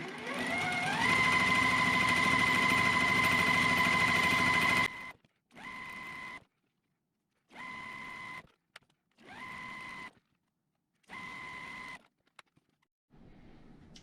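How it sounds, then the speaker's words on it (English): A sewing machine runs in one long steady stretch while stitching quilt squares a quarter inch from a marked line, then whirs in four short separate bursts with quiet pauses between. "Then we're going to get them lined up, and then sew on both sides of that line, 1/4 inch away."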